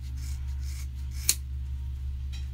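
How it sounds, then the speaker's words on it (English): A single crisp scissors snip cuts hair at home, one short isolated cut heard over a steady low electrical hum. "I'm going to cut my hair"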